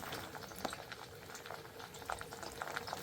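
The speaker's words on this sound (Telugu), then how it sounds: "కట్ చేసి పెట్టిన బెండకాయలు వేసుకుంటున్నామండి" Chopped okra (bendakaya) sizzles as it hits hot oil for a chicken curry, a steady, quiet hiss and crackle with a few small pops scattered through it, heard alone.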